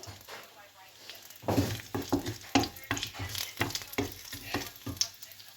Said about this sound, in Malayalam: ഇപ്പം നമ്മൾ എണ്ണ ചൂടായി നമുക്ക് ഈ പട്ടയും ഗ്രാമ്പു ഏലക്കായും അതിലേക്ക് ഇട്ട് കൊടുക്കാം